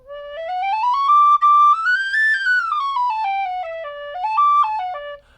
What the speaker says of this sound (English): here's standard high D whistle, soprano D